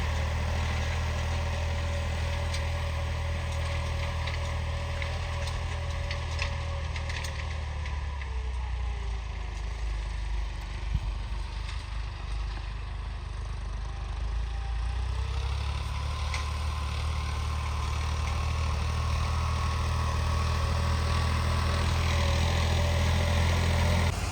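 A 3630 tractor runs a straw-making machine at full throttle, making a steady, heavy low engine drone with a faint mechanical ticking over it for the whole stretch.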